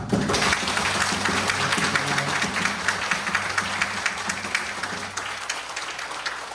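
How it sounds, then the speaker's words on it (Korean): A church lecture audience breaks into steady applause, many hands clapping together at moderate volume for several seconds, with a faint voice beneath. "이렇게 좋은 찬양 이끌어 주신 우리 찬양팀들에도 박수 주시고"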